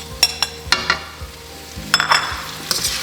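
Beef with oyster sauce and soy sauce is stirred in a pan for Peruvian lomo saltado, giving scattered sharp clinks and scrapes over a low sizzle, close and with no talk.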